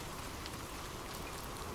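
Steady rain falling on a surface, a dense even hiss of many drops with no voices, soft and continuous throughout.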